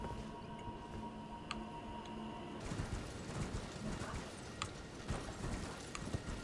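A horse in the video game Elden Ring trots along with rhythmic hoof clip-clops over a constant low background ambience, with a few faint ticking sounds mixed in.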